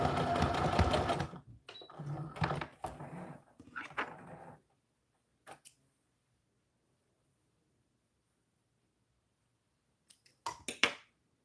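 Sewing machine backstitching in reverse to tie off the seam on a doll dress bodice: a dense, loud burst of stitching at the start, then quiet with a few brief clicks and a short final rattle near the end.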